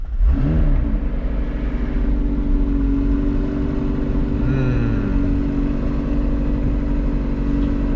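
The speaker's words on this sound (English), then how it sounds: "And let's start her up." A car starts up in track mode, its engine catching and revving loudly before settling into a steady, close, continuous drone with another short rise in pitch near the middle.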